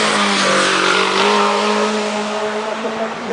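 A Porsche race car, number 177, roars past at a hill climb, its engine loud and sustained with a steady high drone and rising pitch as it goes by, with no talk over it.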